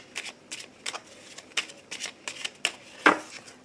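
Oracle cards are shuffled by hand for a card reading, quiet close riffs and slaps coming in an uneven rhythm of about a dozen short bursts, one louder snap near the end, with no talking.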